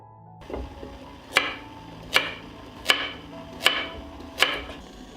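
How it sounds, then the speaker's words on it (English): Five sharp, evenly spaced knife chops through 500 grams of peeled carrots on a cutting board, close and clear over a quiet kitchen background with a faint low hum. "I will chop 500 grams of peeled carrots"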